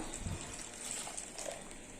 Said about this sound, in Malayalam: ഇനി ഇതിലേക്ക് 1 കപ്പ് വെള്ളം ചേർത്ത് കൊടുക്കാം